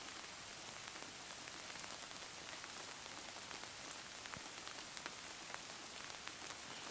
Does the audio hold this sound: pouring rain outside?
yes